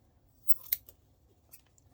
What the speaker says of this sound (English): I'm just going to cut a little square.